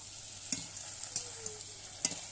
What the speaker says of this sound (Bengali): ফুচকাটা আমার এক মিনিটের মতো নেড়ে চেড়ে ভালো করে ভেজে নিতে হবে।